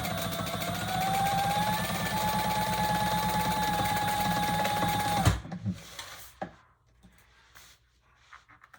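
Sewing machine basting the bottom of a fabric tote bag, a steady close mechanical whir and rapid needle chatter for about five seconds, then stopping abruptly, followed by a few soft handling knocks.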